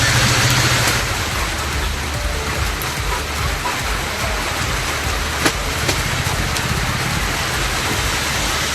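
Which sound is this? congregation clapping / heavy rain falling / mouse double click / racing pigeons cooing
heavy rain falling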